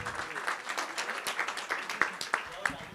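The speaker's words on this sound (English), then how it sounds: "Can we have a round of applause for both of them and the entire Delhi team?" Applause for the Delhi Ranji cricket team at a cricket book launch ceremony, a steady round of clapping from the audience for about three seconds, with a few sharper individual claps standing out near the end.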